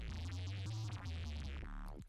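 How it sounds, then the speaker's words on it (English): Distorted bass tone built from a sampled fidget spinner whir, a short buzzing low note with gritty harmonics that pulses briefly and drops away at the end, quiet and alone. "that's how we created our bass out of the fidget spinner sound."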